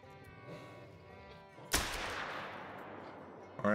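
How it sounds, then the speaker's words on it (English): A single loud rifle shot fired at a crocodile on a coastal hunt in the video game The Hunter cracks out sharply, then a long rumbling echo trails away, with faint ambient sounds before it. "let's hopefully take a shot this time"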